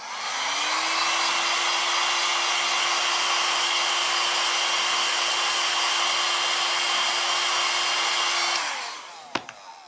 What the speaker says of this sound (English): I'm gonna blow dry.